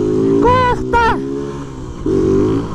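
Motorbike fitted with a loud Polimet can-style exhaust, revving in short sharp bursts that rise and drop, with a steady idle rumble between, heard up close.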